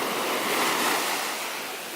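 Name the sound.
ocean waves on a beach in Porto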